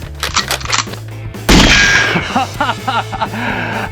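Modified Nerf Rukkus ICS-8 blaster loaded with Accustrike slugs fires with a sharp, loud burst of air and clatter, followed by mechanical clicks and whirring as the blaster cycles, close up with no speech.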